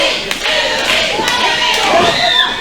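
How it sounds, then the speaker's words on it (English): A wrestling crowd at a CWF Uprising event cheers steadily, a loud, continuous roar with a few thuds from the ring, while a commentator talks over it. "Crowd getting behind Dewey."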